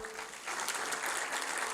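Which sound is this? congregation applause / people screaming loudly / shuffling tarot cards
congregation applause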